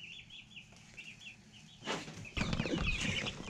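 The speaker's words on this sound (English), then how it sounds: "Still have 12 baby turkeys." Young turkey poults make repeated soft, high chirping calls at a steady pace in a pen. Louder rustling and flapping noises build up in the second half.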